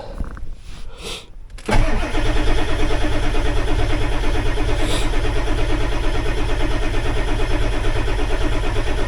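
A Ford 7.3L Powerstroke diesel with a no-start fault being cranked, a brief click and whir followed by a long, loud, steady rhythmic cranking drone that continues without catching.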